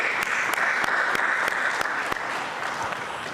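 An audience claps steadily for city staff at a State of the City address in San Gabriel, a dense, sustained wash of applause with a few sharper claps standing out, loud and continuous throughout.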